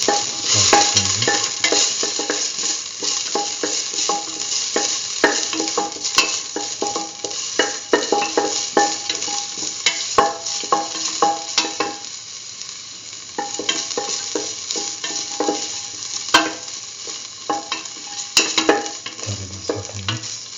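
Corn, coconut milk and rice with ginger and salt being stirred in a pan, a steady scraping and stirring over a soft continuous sizzle for the whole stretch, close and fairly loud, with no voices.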